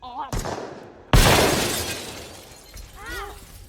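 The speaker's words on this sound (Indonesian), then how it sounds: "Suara tembakan memecah suasana pagi, kaca jendela pecah berantakan, dan Lydia" Gunshots shatter window glass: two sharp bursts of breaking glass, the second loud and close with a long crackling scatter, while voices speak before and after.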